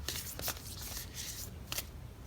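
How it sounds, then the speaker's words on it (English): Tarot cards shuffled by hand in quick crisp bursts of riffling and sliding, close and fairly quiet, with no voices. "I'll also shuffle on camera."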